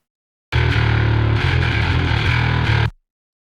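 Distorted guitar-and-strings passage from a mix of a cover song, with a faint rattly high-end grit on the strings, playing steadily and loud for about two and a half seconds, then stopping.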